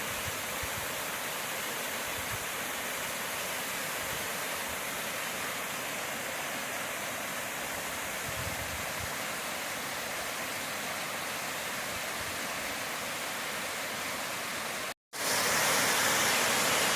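Donkey Creek waterfall roars in a constant broadband rush of falling water, loud and unbroken, with a brief cut before the sound resumes even louder.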